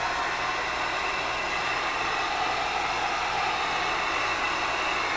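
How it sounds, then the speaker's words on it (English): Heat gun blowing to loosen the adhesive under a golf grip, a steady hissing rush of air at moderate level with a low motor hum, continuous and unchanging with no speech. "Next thing I do, get the heat gun."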